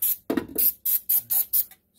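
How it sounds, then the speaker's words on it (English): Carb cleaner sprayed from an aerosol can while cleaning old silicone during a jet pump install on a 1996 GTI: six short, close hissing bursts in quick succession with brief gaps, and no talking. "We're going to spray some carb cleaner up here"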